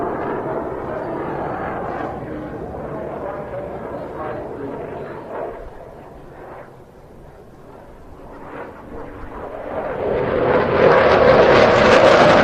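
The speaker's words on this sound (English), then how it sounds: "a very good demonstration of the Typhoon's 250 degree per second roll" A Eurofighter Typhoon jet flying aileron rolls during an air festival display, a broad roaring engine rumble that dips, then swells loudly toward the end as it passes nearer, with crowd or commentary noise underneath.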